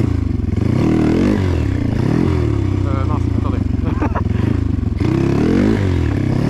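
A motorcycle engine revs and surges in bursts during a wheelie attempt, close and loud, with someone talking over it and some clatter.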